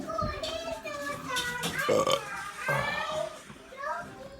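A short burp after dinner rises amid ongoing talk and the noise of children playing in a busy home.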